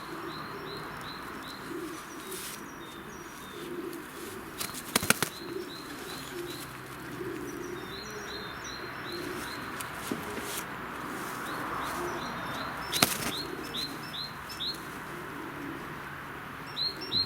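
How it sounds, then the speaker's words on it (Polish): Racing pigeons coo and chirp softly in the background, broken by a couple of brief bursts of flapping wings. "To jest kolejny gołąbek z rozpodu."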